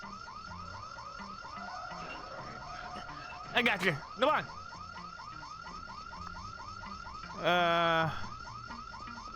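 Alarm wailing in the video game Bully Scholarship Edition, a repeating electronic siren with steady rising-falling cycles that runs throughout, joined by brief louder bursts and a short buzzing tone near the end, with someone briefly talking over it.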